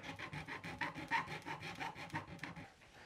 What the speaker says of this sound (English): I've got a different kind of file now. It's a more refined file.